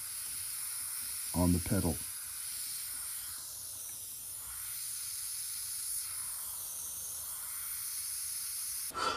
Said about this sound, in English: See how I move the airbrush? I move the airbrush in the direction that I see the detail moving